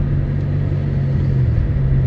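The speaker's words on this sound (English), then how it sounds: "we got some ATV off-roaders right here" Several ATVs, off-road quads, roll along a small-town downtown street in Shamokin, their steady engine rumble continuous and fairly close.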